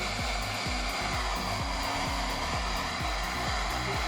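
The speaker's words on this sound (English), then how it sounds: "simply use this hairdryer on here to heat up the metal a little bit" A handheld hair dryer blows steadily and loudly at close range, aimed at the metal badge on a Fiat Panda to warm it, with a low pulsing hum running through the continuous airflow and no talking.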